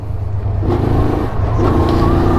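An RKS A250 motorcycle accelerating in fourth gear, its engine giving a steady, close, rising drone with no pauses.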